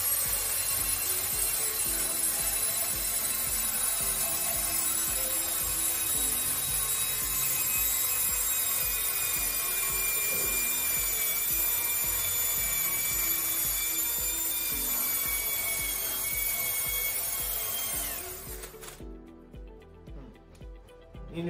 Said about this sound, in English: So to clean the screw, it's pretty much just going up to the screw and running your drill.